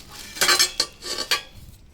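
New stainless steel cooking pots clatter and clank as they are handled, giving several bright metallic knocks in quick succession, close and fairly loud, with no talking.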